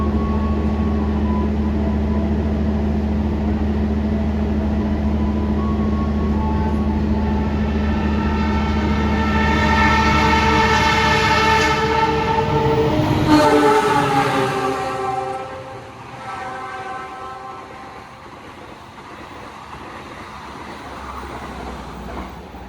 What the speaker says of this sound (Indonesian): Disusul satu kereta yang berangkatnya lebih siang dari Jakarta